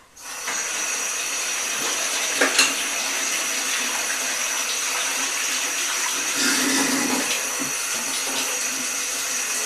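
Water runs steadily into a home-brew kettle for an oatmeal stout as it fills toward the 3-gallon mark, a constant close rushing stream with a few brief clanks partway through.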